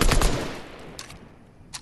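Video game gunfire, a quick loud burst of rapid shots at the start, then a couple of fainter isolated shots further off.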